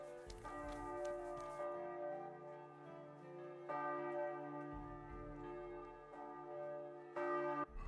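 A church bell rings out in Kingdom Come Deliverance 2, several resonant tolls with long sustained humming decay overlapping one another, steady and fairly loud with no talk.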